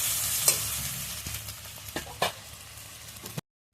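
Ingredients frying in a pan with black cumin tempering while a hilsa-head and fresh taro-leaf dish is cooked, soft steady sizzle broken by several sharp stirring scrapes and clinks near the pan, no talk.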